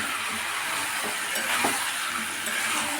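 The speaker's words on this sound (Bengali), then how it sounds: "এইভাবে ভালো করে কষিয়ে নিতে হবে।" Chicken and fried potatoes sautéing in a pan, a steady, fairly loud sizzle with occasional soft stirring scrapes and no voices.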